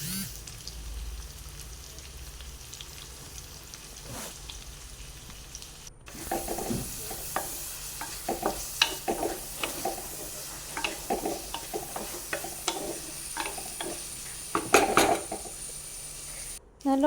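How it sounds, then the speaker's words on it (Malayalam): Chopped onions sautéing in a pan after mustard seeds have popped, for a quail egg curry: a low background sizzle under intermittent sharp clinks and scraping of a utensil against the pan, growing busier and louder partway through. "2 സവോള ചെറുതായിട്ട് മുറിച്ചെടുത്തത് ചട്ടിയിലിട്ട് നല്ലോണം വഴറ്റിയെടുക്കണം"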